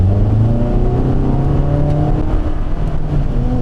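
A 2019 Toyota RAV4 engine revs up under acceleration, its rising drone loud and continuous with the pitch climbing steadily throughout.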